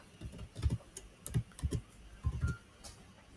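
Fingers type on a computer keyboard nearby in several short, uneven bursts of clicking keystrokes separated by brief pauses, with no talking.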